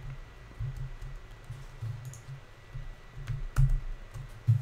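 Computer keyboard typing during a GameMaker Studio 2 programming session, with uneven bursts of close key clicks and a few sharper shortcut-key presses, no talk.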